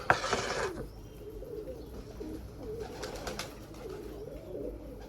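Pigeons cooing softly in the distance at a feeding spot, low murmuring calls repeating under faint background noise, with a brief louder rustle at the start.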